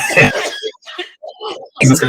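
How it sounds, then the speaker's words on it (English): A few harsh, raspy coughs, loud and close, bursting out in quick succession with short pauses between them. "Hopefully, you don't go out in the world on your days of work coughing like that"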